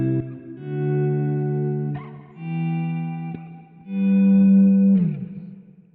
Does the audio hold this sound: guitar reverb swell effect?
yes